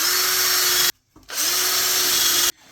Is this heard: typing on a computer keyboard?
no